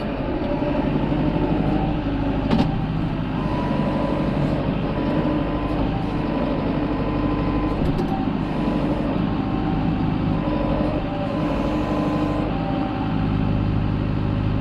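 A farm tractor hauling two hay bales runs loudly and close with a continuous low diesel drone and rattle, steady throughout in freezing weather.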